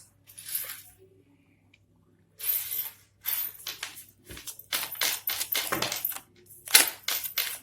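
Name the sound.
tarot cards being shuffled and slipping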